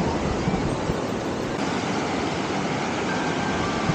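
Strong ocean waves breaking on a beach near a resort, a steady, broad roar of surf with no clear gaps, close and loud.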